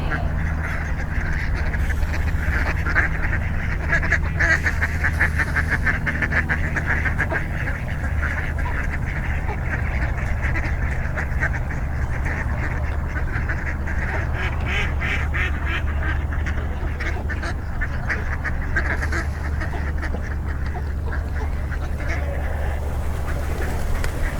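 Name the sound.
ducks quacking in a nature preserve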